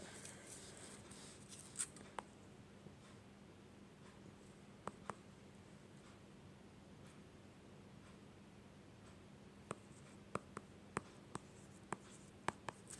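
A pen writes out a physics derivation on paper in a quiet room. Faint, scratchy strokes are broken by sparse sharp taps and ticks.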